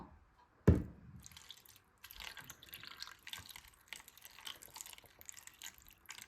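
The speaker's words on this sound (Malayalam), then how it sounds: "നമുക്ക് ഇതിനകത്ത് വെള്ളം ഒഴിച്ചു കൊടുക്കാം" After a sharp knock, water trickles and splashes faintly into a small container in short uneven bursts, close by and quiet.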